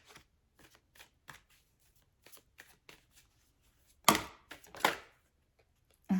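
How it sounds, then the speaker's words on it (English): Tarot cards are shuffled and drawn, giving soft, close riffling taps and then a louder burst of shuffling near the end, with no talking. "I'm going to draw maybe one more card."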